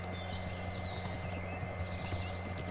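Galloping horse hooves in the medieval game Kingdom Come: Deliverance, a steady rapid clip-clop close by, with an occasional faint whinny over a low droning ambience.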